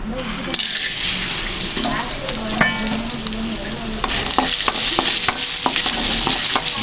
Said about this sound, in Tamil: இப்போ வத்தல் குழம்புக்கு வத்தலை வந்து எண்ணெயில் வறுக்க போகிறோம்.